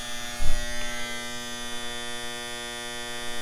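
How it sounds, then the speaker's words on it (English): Powder coat oven relay clicking on with a soft thump, followed by a steady electrical heating hum and buzz that holds for several seconds with no voices. "That's your relay kicking on."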